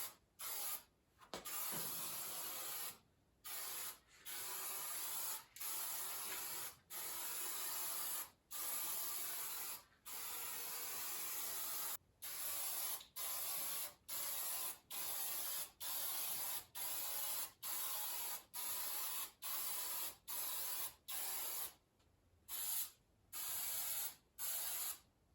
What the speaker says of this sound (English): I'm just going to go ahead and start layering on some of this protective coating